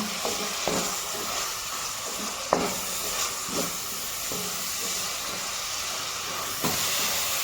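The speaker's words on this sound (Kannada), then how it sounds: "ಈರುಳ್ಳಿ ಬ್ರೌನ್ ಕಲರ್ ಬರೋವರೆಗೆ ನಾವು ಫ್ರೈ ಮಾಡ್ಕೊಳ್ಬೇಕು" Sliced onions frying in a pan over a low flame until browning, a constant hissing sizzle broken by a few sharp clicks and light stirring knocks, near and without speech.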